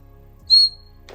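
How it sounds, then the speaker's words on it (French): A vintage McDonald's toy bird whistle gives a single short, shrill, pure whistle blast, close and clear, followed by a faint rustle. "On a les sifflets oiseaux."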